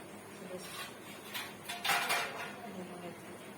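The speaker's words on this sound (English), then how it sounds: "now we'll close the lid and we'll cook for 5-10 minutes" Metal pot lid set down and closed over a pot of biryani in a home kitchen, a couple of soft clanks and clinks at moderate distance, with faint background voices.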